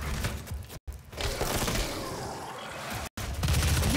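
Gunfire rattles in a multiplayer match of the video game DOOM Snapmap, a dense, continuous burst of shots and crackling hits that briefly cuts out twice before resuming loudly.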